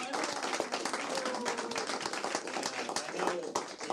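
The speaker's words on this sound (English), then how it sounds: "Big applause, everyone." A studio audience applauds a guest at the close of a talk-show interview, dense close clapping with crisp individual claps, mixed with cheering and voices throughout.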